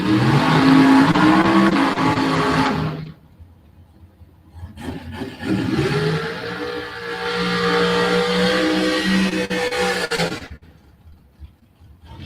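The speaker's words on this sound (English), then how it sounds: "here we go back into the dragsters" Dragsters at a drag strip roar loudly off the line, then pause and make a second long, throaty run with a sweeping engine pitch that cuts off abruptly, heard from close by.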